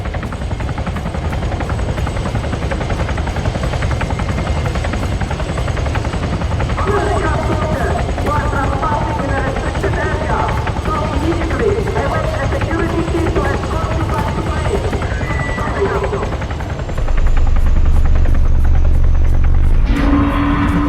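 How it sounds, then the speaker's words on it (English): Helicopter in the video game Arma 3 flies overhead, its steady loud rotor chop and turbine whine filling the whole stretch, with a deeper rumble swelling near the end. "There's a helo."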